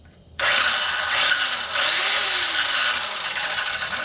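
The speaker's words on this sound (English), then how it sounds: "So I'm just going to cut this little piece of metal first" A Drill Master 6-inch 5.5 amp cut-off saw cuts a small piece of metal, starting abruptly into a loud, harsh whine that rises and falls in pitch as it bites, sustained close up throughout.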